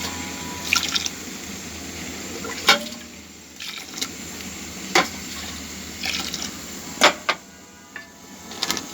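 Heated water is poured into a pot of khichuri made with mung dal and polao rice, a steady watery wash with a few sharp splashy spikes, alone and close.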